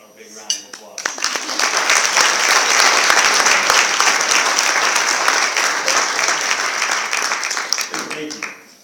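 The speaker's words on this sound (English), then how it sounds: "So can I ask everybody to give my mom and dad a big round of applause?" A banquet crowd at a golf academy signing event breaks into applause, building from a few scattered claps into a loud sustained ovation, then thinning out near the end with a voice at the edges.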